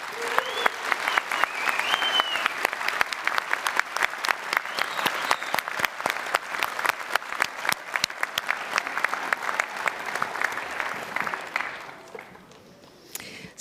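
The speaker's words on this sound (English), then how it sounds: "please give a big round of applause." A graduation audience at a School of Science, Engineering & Environment ceremony applauds, a steady, dense clapping that carries on for about twelve seconds before thinning out and fading near the end.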